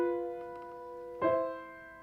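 A held harmonic chord sustains quietly, then a second chord enters around the middle with a soft attack and rings on, sounding as a musical resolution following a tense tritone interval.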